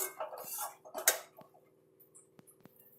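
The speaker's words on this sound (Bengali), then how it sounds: "এবার আমি এতে দিয়ে দেবো ছাতুটা, দিয়ে এটা আমি ভালো করে মিশিয়ে নেব পুরটা একটু বাড়ার জন্য" A spoon clinking and scraping in a bowl while mixing sattu, roasted gram flour, filling with spices: sparse light metallic taps and scrapes, close and quiet, with gaps between strokes.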